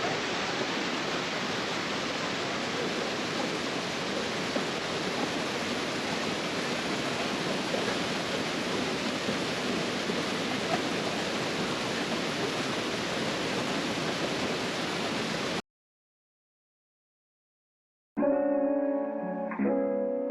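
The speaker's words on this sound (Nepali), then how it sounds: "मैलुङ झरनाको सबैभन्दा माथि टपमा हाम्रो भाइ।" Mailung waterfall roars in a dense, constant wash of falling water heard close up for most of the stretch, then cuts to silence before a brief burst of other sound.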